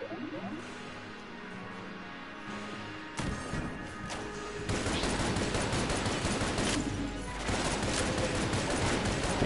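Dense, rapid gunfire and crashing impacts from the pixel-art dungeon shooter Enter the Gungeon start faintly, then swell into a loud, continuous barrage, with no speech.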